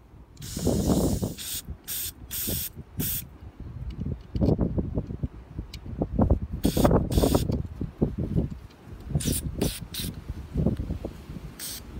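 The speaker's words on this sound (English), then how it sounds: "Same thing, just spray it, make sure it's clear." Several short bursts of aerosol carburetor cleaner hiss in an irregular rhythm, close by, sprayed into a Briggs & Stratton carburetor from a Bolens 450e, over a low rumbling background.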